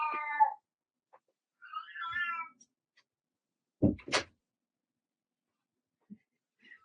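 A pet cat meows several times indoors, with a couple of short, fairly close meows followed by a brief muffled thump or door sound and quiet gaps between.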